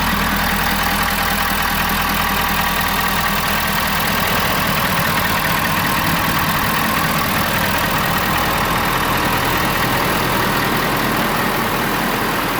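A 2020-or-later Ford 6.7 Powerstroke V8 diesel with an S&B air intake idles steadily and loudly up close, a constant throaty chug with intake hiss and no voices.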